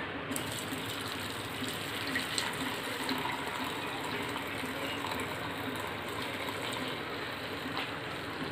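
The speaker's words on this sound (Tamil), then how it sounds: "இந்த மாதிரி ஒரு கிண்ணத்தில் வந்துட்டு நம்ம ஃபில்டர் பண்ணிடணும்." Lemongrass green tea pours and filters into a bowl as a steady, soft, continuous gush of liquid that runs for the whole stretch.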